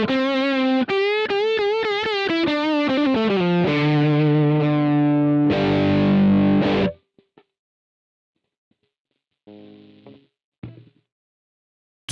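Heavily distorted electric guitar played through a Boss GT-100 multi-effects unit and dialed toward a particular guitarist's signature tone, ringing out loud sustained chords and melodic phrases for about seven seconds, then a few short, quieter strums after a pause.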